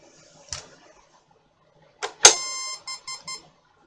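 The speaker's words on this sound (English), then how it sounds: "Some sort of a beep from it." A Tyco Power Plug turbo and macro add-on for a SNES controller gives a few clicks of handling, then a bright electronic beep followed by three short quick beeps, clean and close with no voices.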